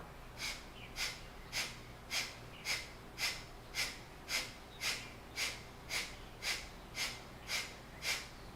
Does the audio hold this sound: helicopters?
no